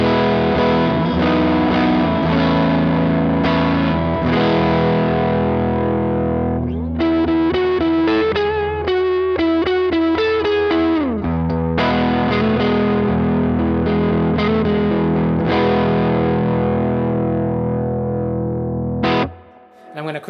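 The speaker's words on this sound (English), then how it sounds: "And with the Dumbal Drive on mode 3," Electric guitar played through a Donner Dumbal Drive overdrive pedal set to mode 3, giving a loud, sustained distorted tone with chords and a busier run of picked notes in the middle, then ringing chords until a sudden stop.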